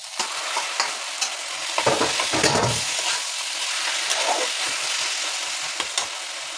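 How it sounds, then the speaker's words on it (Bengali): Coconut and taro leaves are stirred in a hot pan, with scraping strokes over a steady sizzle that swells into a louder burst partway through. "নারকেল একটু ভাজা ভাজা হয়ে গেছে, এবার শাকটা দিয়ে দেবো।"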